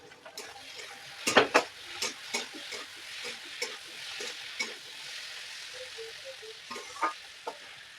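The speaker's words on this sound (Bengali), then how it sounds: "আমি আদা রসুন পেস্টটা দিয়ে ভালো করে নাড়িয়ে চাড়িয়ে ভেজে নেব।" Ginger garlic paste frying in a pan while being stirred, a steady hiss and sizzle under frequent scraping and clicking strikes of a spoon against the pan, close and continuous.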